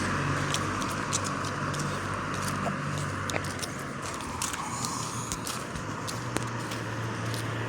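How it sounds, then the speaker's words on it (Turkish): Cars rolling past on a road in rainy outdoor conditions, a steady broad traffic roar with passing swells and a few sharp clicks and taps, no talk. "Arabalar da insanın üstüne üstüne geliyor değil mi?"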